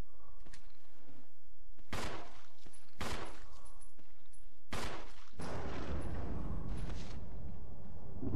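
Gunfire from the video game Resident Evil Remake as a zombie is shot down in a mansion: four or five loud, sharp shots spaced about a second apart, then a heavy low rumbling burst, with no talking.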